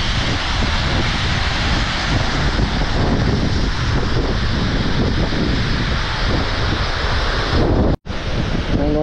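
Water roars steadily at Aagaya Gangai waterfall, a loud, continuous broadband rush that holds constant throughout, with a brief dropout near the end.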